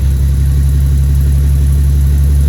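1920s Talbot Darracq pickup truck engine idling steadily after starting, a loud, close, low chugging rumble with an even beat.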